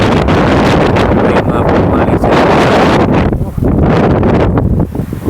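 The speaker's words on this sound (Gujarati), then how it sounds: "લીમડો પવન બહુ છે" Strong wind gusts across a village farm beside a neem tree, buffeting the microphone loudly and continuously with rustling leaves mixed in.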